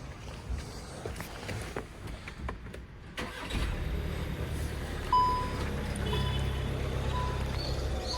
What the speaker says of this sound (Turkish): Arabayı çalıştırmak mı gerekiyor acaba?